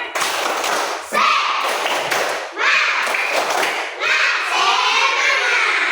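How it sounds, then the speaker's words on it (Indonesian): Second-grade schoolchildren repeat the 'tepuk semangat' spirit clap: quick rhythmic group clapping with shouted children's voices in a few loud, close bursts that carry steadily to the end. "Sekali lagi, tepuk semangat."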